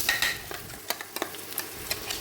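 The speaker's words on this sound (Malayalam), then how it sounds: "ഇനി ആ ചതച്ച് വെച്ച ബീട്രൂട്ട്, തേങ്ങ ആ മിക്സും കൂടെ ചേർത്ത് കൊടുക്കാം." A crushed beetroot and coconut mix for thoran is stirred into hot oil with mustard seeds, dried chilli and curry leaves in a clay pot, a soft sizzle under a series of light scraping spoon strokes.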